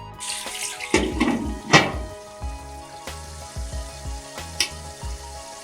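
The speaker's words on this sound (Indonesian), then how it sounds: "Tuh lihat, cuminya itu sudah mulai meletup ya guys" Baby squid frying in hot oil in a wok, a constant sizzle broken by a few loud, sharp pops and spatters, with faint background music.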